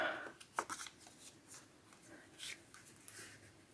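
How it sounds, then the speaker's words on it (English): Quiet paper rustles and crisp creases as a sheet of paper is folded in half for a treat bag topper, with a few soft scrapes and taps close by. "Just take and fold it in half."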